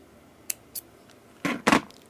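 Small scissors snip beading thread during jewelry making: two quick light clicks, then two louder, closer crisp snips in quick succession, against near silence.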